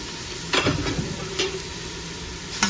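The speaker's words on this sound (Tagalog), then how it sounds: "Ayan, ginisa ko po ang sibuyas. Sa olive oil po yan." Steady frying sizzle of onion and garlic sautéed in olive oil for pumpkin soup, close up, with a few utensil clicks and stirring scrapes against the pan.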